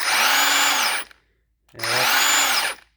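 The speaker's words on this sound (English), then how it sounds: "This was Snap-on's first brushless impact, and I think it was their first brushless tool." A Snap-on 18V brushless impact wrench whirs at high speed in two bursts, each about a second long, stopping with a quick brake wind-down and a short pause between, loud and close.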